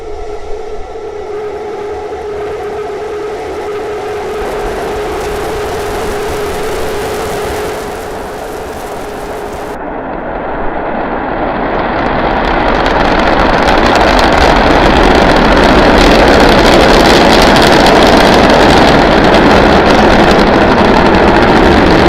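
SpaceX Starship SN9 Raptor rocket engines at liftoff on a high-altitude flight test, a steady roar that swells into a louder, dense rumble partway through and holds.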